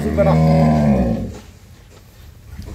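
A young eight-tooth desi dairy cow with a bull calf at a rural village home gives one loud, deep, drawn-out moo lasting about a second, close by, followed by quieter background sounds.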